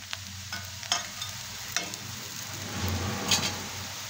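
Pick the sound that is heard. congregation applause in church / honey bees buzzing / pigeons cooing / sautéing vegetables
sautéing vegetables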